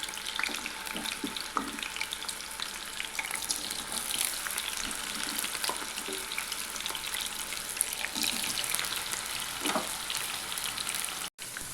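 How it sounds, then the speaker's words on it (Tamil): Raw banana slices frying in a little oil on a high flame, a constant bright crackling sizzle with occasional soft stirring taps, close and steady with no voices. "ஃப்ளேம் நல்லா ஹைலேயே வச்சு நல்லா வறுத்துக்கலாம்"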